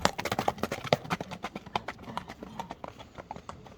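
Hooves of a horse in Kyrgyzstan clip-clopping in a quick, uneven rhythm at close range, the beats tapering off a little toward the end.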